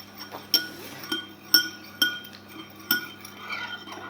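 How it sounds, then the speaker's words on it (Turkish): A small spoon stirs inside a glass, ringing out in sharp, bright clinks at irregular intervals over a low steady hum, close and fairly loud with no voices. "Şurada küçük bir kaşık var. Şöyle karıştırın, Karıştır, karıştır, karıştır."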